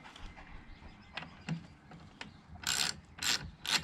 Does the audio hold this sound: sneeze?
no